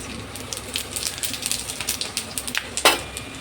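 Dried red chillies and five-spice seeds drop into hot oil in a pan, giving a crackling, spattering sizzle with sharp pops and a bright burst near the end, heard up close and alone.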